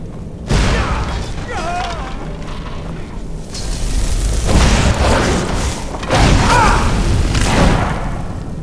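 A fire rune exploding in Skyrim, with several heavy booming blasts spread across the clip over a rumbling game-combat background, along with some voice-like sounds.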